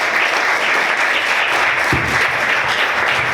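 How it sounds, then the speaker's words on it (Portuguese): Church congregation applauding during a worship service, a dense, steady wash of many hands clapping that stays loud and even throughout, with no voices standing out. "Vamos aplaudir o Senhor,"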